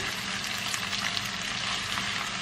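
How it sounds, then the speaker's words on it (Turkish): Steady crackling sizzle of peppers and eggplant frying in a pan, close and constant, with no voices. "Biraz da biberlerle kızartacağım şöyle"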